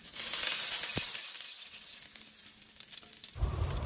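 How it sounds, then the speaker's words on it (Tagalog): Onion, garlic and ginger sautéing in a pan, a bright hissing sizzle that starts loud and slowly settles, with one sharp knock early on and a low rumble of handling near the end. "Naggisa na nga pala ako ng sibuyas, bawang at luya"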